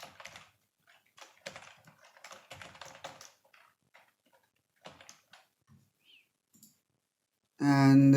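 Quick bursts of clicky keystrokes on a computer keyboard come in uneven clusters with short pauses, close and fairly quiet, and a louder voice cuts in at the very end.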